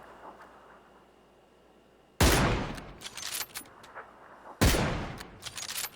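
Gunfire in PUBG, two sharp loud bursts of shots a couple of seconds apart with scattered follow-up cracks, over quiet background ambience.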